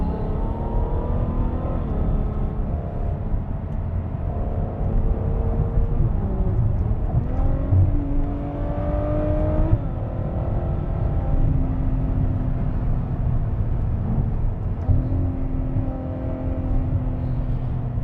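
A yellow 2014 Ferrari F12 Berlinetta V12 drops a couple of gears and accelerates hard on a back road, its engine pitch climbing in repeated sweeps through the gears, loud and continuous from inside the car.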